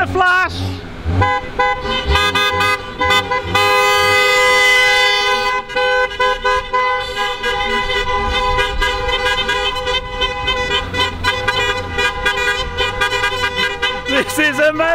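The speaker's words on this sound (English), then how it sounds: "we're going to do a honk and a flash for the NHS Heroes" Many Mini cars at a large UK Mini meet sound their horns together in a sustained chorus of overlapping toots, loud and dense, with a crowd cheering and voices under and around the honking.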